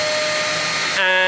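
A DEWALT DXVCS002 vacuum cyclone dust collector runs with a steady, loud motor whine, which steps up to a sharper tone near the end of the brief burst.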